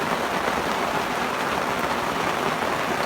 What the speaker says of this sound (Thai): แล้วฝนตก ติ๊กติ๊กติ๊กฝนตกเต็มเลยครับ